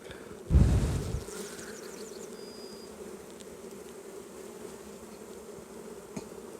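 Honey bees buzz in a steady, dense drone around an opened beehive after honey harvest, with one loud close bump near the start and no talking.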